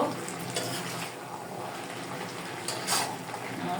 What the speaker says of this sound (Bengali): এখন আমি একটু লেড়ে দিব